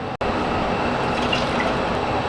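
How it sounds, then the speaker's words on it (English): A cup of water is poured into a pot of vegetables for chicken dumpling soup, giving a continuous rushing splash that runs steadily throughout the clip, with a momentary gap near the start. "I'm going to put the vegetables into the pot, and we're going to add a cup of water"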